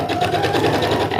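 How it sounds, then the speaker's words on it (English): Sewing machine back stitching on a homemade vehicle garbage bag, a loud close steady motor whir with a fast even needle rhythm and no pause. "we're gonna scooch it to the other side and start sewing. We're gonna do a little back stitching"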